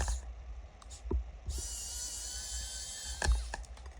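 A WORKPRO electric screwdriver undoes a screw in a short motor whirr lasting a couple of seconds, framed by a few close clicks and handling knocks.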